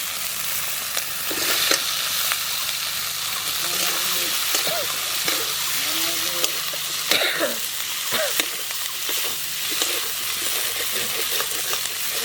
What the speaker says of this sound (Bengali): এবার আলু দিয়ে আর মশলাগুলো দিয়ে ভালো করে কষিয়ে নেব